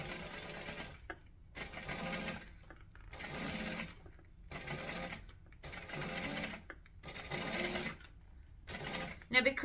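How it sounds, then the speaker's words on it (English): A sewing machine stitches lighter vinyl an eighth of an inch from the edge, running in about seven close bursts of a second or so with brief pauses between, steady and near. "I'm going to stitch 1/8 of an inch from the edge of the vinyl"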